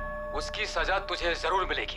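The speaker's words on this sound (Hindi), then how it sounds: "पीछे घंटे की आवाज आ रही है।" A church bell rings faintly in the background of a recorded threat from a crime-drama scene, its steady tones sustained beneath someone speaking loudly in Hindi.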